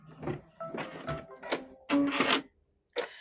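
An all-in-one sewing, quilting and embroidery machine stitches a patch in short mechanical bursts with a whirring motor tone, stopping and starting unevenly with brief silent gaps between runs.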